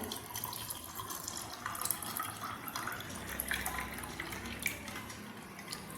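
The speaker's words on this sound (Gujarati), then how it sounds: "ઠંડુ પાણી લીધેલું છે આપણે" Cold water poured from a container into a glass holding fennel sherbet premix and ice cubes, a steady, close splashing stream lasting several seconds with no talking.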